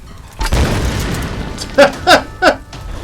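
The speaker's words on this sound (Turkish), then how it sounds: "bomba atarla direkt yapıştıracağım ya" Grenade launcher blasts in Tomb Raider: one heavy, rumbling boom followed by three quick, punchy bursts, loud and close, with a faint voice underneath.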